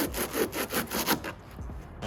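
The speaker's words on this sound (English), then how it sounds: "Pretty much got a little hacksaw here" Small hacksaw cutting through a 3D printed plastic dash mount, about eight quick, even back-and-forth strokes close up, then fading to lighter scraping.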